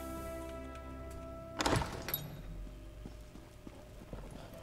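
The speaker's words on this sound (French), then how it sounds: "Ok, cheval." Horse hooves clip-clop in The Elder Scrolls Online, a loud cluster of hoof strikes starting midway through, then softer steps over steady game ambience and music.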